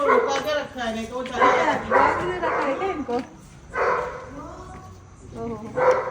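Dogs bark and yip at an agitated Indian spectacled cobra cornered beside a house, short bursts of barking recurring near and loud through the clip, partly mixed with voices talking.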